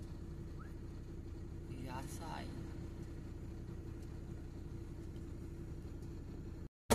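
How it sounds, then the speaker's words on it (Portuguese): A truck manoeuvres toward a weighing scale, a steady close engine rumble with a brief squeal in the middle before it cuts out abruptly, and someone talks over it. "Eu vou entrar por baixo ali, manobro o caminhão lá, subo na balança"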